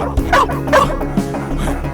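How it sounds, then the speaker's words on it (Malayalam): A dog barks repeatedly in short, loud, close yaps and bow-wows, with brief whimpering tones between barks. "അയ്യോ പട്ടി കടിക്കാൻ വരണേ അയ്യോ പട്ടി വരണേ"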